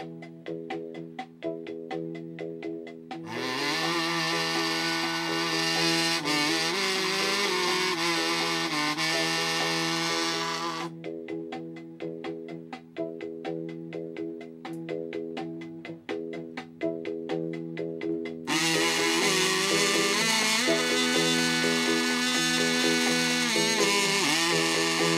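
A kazoo gives out a raspy, buzzing tone in sustained passages with wavering pitch. Choppier, rapidly pulsed stretches sit between them, and the sound is faint and close throughout.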